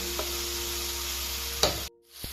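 Marinated chicken going into frying spice paste for an Assamese home-style chicken curry, giving a steady close sizzle with a brief stirring clatter, then a sudden drop to quiet hiss near the end.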